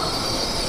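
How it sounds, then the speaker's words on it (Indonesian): A CRH 380B high-speed train pulls into a large station with a loud, continuous rumble and hissing wheel noise, a steady broadband roar with faint squeal. "Nah, ini ada yang baru datang CRH"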